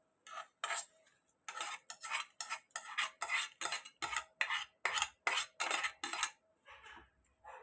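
A spoon scrapes and clinks against a pot as golden-brown fried onion tempering is stirred into cooked toor dal, a steady run of close, rhythmic metallic strokes that slow and fade near the end.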